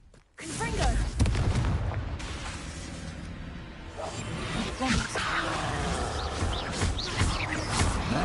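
Blasting spell explosions in the Hogwarts Legacy video game burst loudly through dense, continuous combat noise, with booming impacts, shattering debris and whooshes, while a voice speaks over the action.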